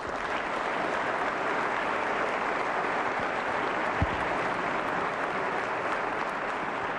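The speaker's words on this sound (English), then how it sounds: "Please give them a round of applause" A large audience at a state of the state address applauds honoured guests with sustained, even clapping that fills the whole stretch without voices.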